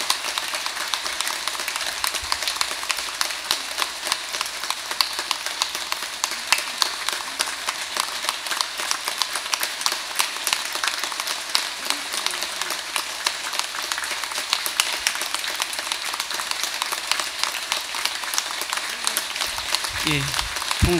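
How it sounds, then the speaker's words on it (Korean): A large assembly at Tongdosa temple claps as monks come up during a Buddhist Dharma ceremony, with long, dense, unbroken applause full of crisp individual hand claps and steady volume throughout. "스님들 올라오십니다. 큰 박수 부탁드리겠습니다"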